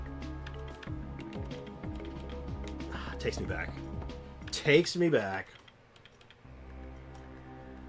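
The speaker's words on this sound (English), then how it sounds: "Keyboard sound effect, listen to that." Keyboard typing effect from a video game, with quick key clicks ticking over steady background music while a person speaks briefly.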